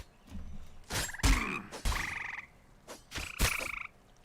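Repeated croaks from a frog in the fantasy MMO Embers Adrift, several distinct bursts of moderate loudness spread across the moment, standing alone without any talk over them.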